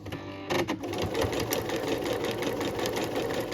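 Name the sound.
sewing machine stitching cotton tote bag seam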